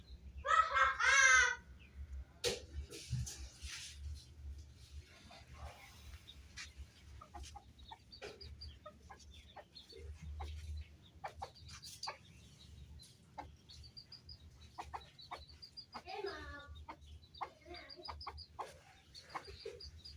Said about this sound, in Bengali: মুরগি খিদে লাগছে